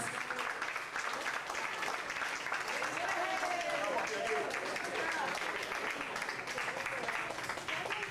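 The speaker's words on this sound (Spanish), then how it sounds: "el aplauso más fuerte que le puedan dar a los esposos" Guests at a wedding reception applaud the newlyweds, a steady wash of clapping with crowd voices and an announcer talking over it throughout.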